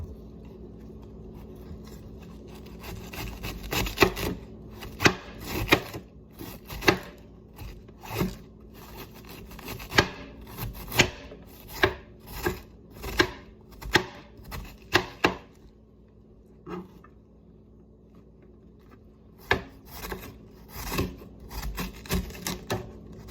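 A knife chops through a medium head of cabbage on a board in a long run of crisp, evenly spaced strokes, close and clear with brief pauses, and no talk.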